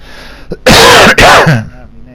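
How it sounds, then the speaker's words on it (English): Two harsh, loud asthmatic coughs in quick succession, close to the listener, with a short breathy sound before them and a small throaty trailing noise after. "Excuse me for coughing. My asthma's still giving me some stiff."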